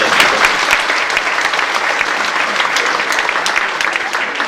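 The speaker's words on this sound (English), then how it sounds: "Come on, give her a round of applause." Steady, sustained applause from an audience, dense clapping at an even level throughout without pause.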